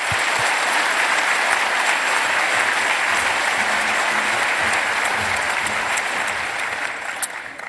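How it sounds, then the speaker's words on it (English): A hacker conference audience gives the speakers on running a GSM network a steady, full round of applause, dense and even for nearly eight seconds before easing off slightly at the close. "if you'll join me in giving them a round of applause"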